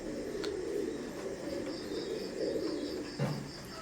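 Imported Teddy pigeons of an Oman bloodline cooing indoors, with a low continuous rumbling coo throughout, close and fairly soft, plus an occasional faint chirp and a brief knock near the end.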